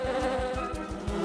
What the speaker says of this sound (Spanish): ¡Avispas!